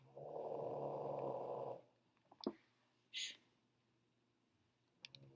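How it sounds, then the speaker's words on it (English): A dog snores softly with one long drawn rasping breath, followed by quiet clicks and small shuffling sounds nearby. "puppy dog is snoring in the background"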